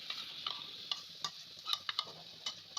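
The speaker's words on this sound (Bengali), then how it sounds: "ভালো করে মিশিয়ে নেবার পর দই আর বেসনের ব্যাটারটা দিয়ে দিলাম।" A spoon scrapes and taps repeatedly as yogurt and gram flour batter is stirred in a hot pan with asafoetida and turmeric, over a faint steady sizzle with no talking.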